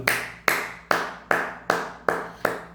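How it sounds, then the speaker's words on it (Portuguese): Seven sharp hand claps in a steady, evenly spaced rhythm, each with a quick decay, close and clear with no talking. "palmas, palmas, palmas, palmas"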